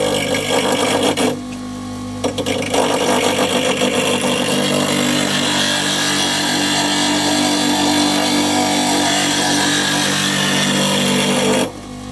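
A bench grinder sharpens a woodturning gouge, giving a steady, loud whirring grind that holds for most of the stretch, with brief dips where the tool lifts off the wheel near the start and end.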